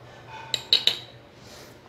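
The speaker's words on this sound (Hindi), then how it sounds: "देखिए हमने लगभग यहाँ पे 1 चम्मच डाला है" A spoon measuring turmeric powder clinks lightly against a dish in three quick taps, close but faint over a quiet background, with one more sharp clink at the end.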